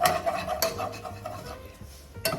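A utensil scrapes and stirs across the bottom of a pan while meat browns for gravy, close scraping strokes with metallic clinks and a faint sizzle underneath.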